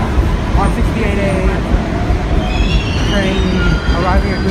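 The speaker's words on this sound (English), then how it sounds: "train arriving at Google Plaza." An MTA subway train pulls into a station, with loud rumbling and squealing wheels, high metallic screeches rising and falling over the din, and voices murmuring in the background.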